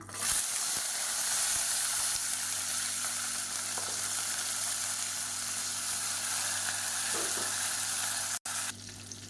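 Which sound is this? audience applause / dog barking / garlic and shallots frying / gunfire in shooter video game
garlic and shallots frying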